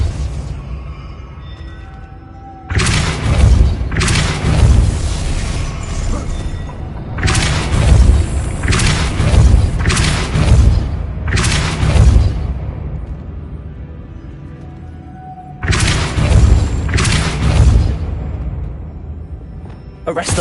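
Repeated spell impacts from the Hogwarts Legacy video game: a series of loud, booming bursts with crackling debris, arriving in clusters over steady game ambience.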